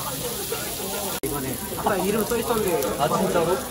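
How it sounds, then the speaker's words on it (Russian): Meat sizzles as it fries at a market stall in Korea, a steady close hiss under voices talking throughout, with one brief sharp click partway through. "Видите, как быстро мясо жарится?"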